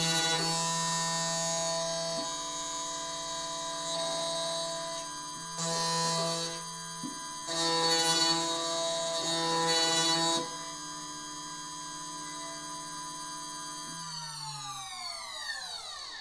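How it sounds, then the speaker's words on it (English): Xhorse Condor XC-Mini Plus II key cutting machine running, a steady electric motor hum with layered tonal whine that swells in a few brief bursts, then winds down with falling pitch near the end. "From the first looks on the machine, I must say it sounds much quieter than the previous version of the XC-MINI."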